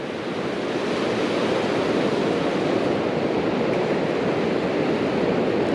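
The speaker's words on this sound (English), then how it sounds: "All you can hear is the waves." Ocean waves wash steadily onto a calm beach, a continuous broadband roar of surf that holds fairly loud and unbroken throughout, with no wind and no voices.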